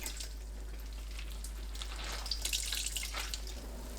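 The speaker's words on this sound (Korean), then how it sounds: "물 짭니다." Rinsed butterbur shoots squeezed by hand, water dripping and splashing into a sink in a steady wet patter that grows a little busier toward the middle, close and moderately quiet, with no talking.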